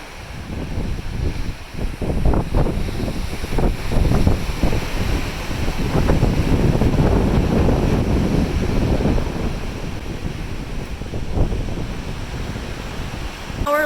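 Atlantic Ocean waves seen from the MSC Meraviglia cruise ship, a deep churning roar of surf and spray swelling and easing under strong wind buffeting the microphone.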